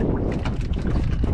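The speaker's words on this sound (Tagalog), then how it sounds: "magliparan na naman, kaya malakas ang hangin" Strong wind gusts buffet the microphone outdoors by the water, a loud continuous rumbling roar with rough bursts and no speech.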